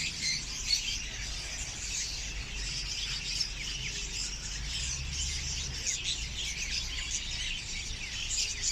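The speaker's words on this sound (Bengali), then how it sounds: "এগুলো অ্যালবিনো ককাটেল, 8 রিয়াল জোড়া, 1600 টাকা।" Albino cockatiels at a pet bird market in Seeb, Muscat, Oman chirp continuously in a dense, busy chorus of overlapping bright tweets against a low background hum.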